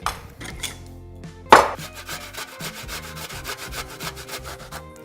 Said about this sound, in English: Now the traditional way of making this is you grate it.